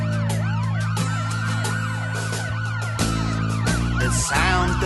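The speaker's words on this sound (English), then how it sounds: "The sound of sirens that remain so potent." Emergency vehicle sirens wail loudly and close, several tones sweeping up and down and overlapping over a heavy engine drone, growing harsher near the end.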